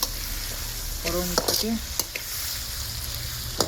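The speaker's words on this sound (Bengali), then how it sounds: "আর এখন পেঁয়াজের এটাকে ভালোভাবে ভেজে নিই" Onions fry in a pan with a steady, close sizzle and a few quick stirring scrapes, while a voice speaks briefly over it.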